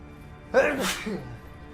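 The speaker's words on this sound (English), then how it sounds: "I'm gonna sneeze." A single sharp sneeze from a person with a lingering cold bursts out up close after a brief quiet moment, followed by a short breathy tail.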